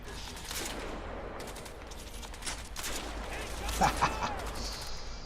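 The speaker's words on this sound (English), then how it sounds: "I'm getting shot at, I didn't realise." Gunfire in the video game Crysis 2, scattered shots and bursts in a busy battle mix of moderate loudness, with voices speaking underneath.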